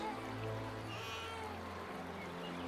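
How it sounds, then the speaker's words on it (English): A baby cries from inside a basket at a riverside in an animated Moses story, a single short wavering wail that rises and fades within a few seconds. "There is a crying sound coming from that basket."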